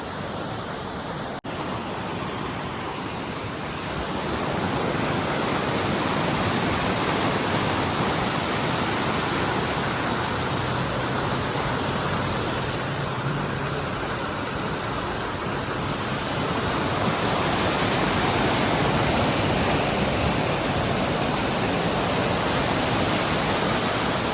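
River water rushing steadily in a scenic outdoor spot, a dense, continuous roar of flowing current that fills the scene and swells slightly in loudness partway through, with no voices over it.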